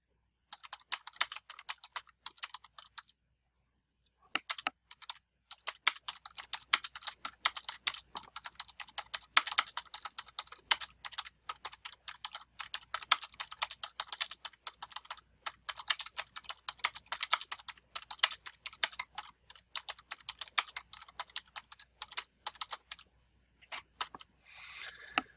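Fingers type on a computer keyboard, a dense run of quick close clicks that breaks off briefly near the start and again near the end, with no voices.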